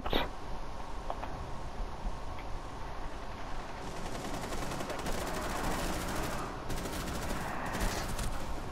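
Sustained bursts of gunfire in Tom Clancy's Rainbow Six, a steady loud rattle that thickens after a few faint early shots and runs for several seconds without speech.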